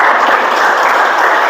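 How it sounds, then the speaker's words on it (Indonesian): Students in a classroom clap for a classmate, a loud, close, continuous burst of many hands applauding evenly throughout with no pauses. "beri tepuk tangan untuk Ajeng."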